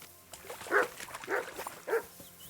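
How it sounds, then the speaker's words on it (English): A dog in the medieval game Kingdom Come: Deliverance II gives three short, muffled barks spaced about half a second apart, somewhat distant and fairly faint over low background ambience. "Can hear the barking."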